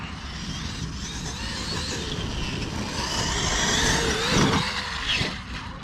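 A Traxxas X-Maxx RC car, upgraded to a 1100 kW motor, runs across a simple field, its motor whining and rising in pitch as it speeds up, with tyres scrabbling on the ground, loud and close with no talk.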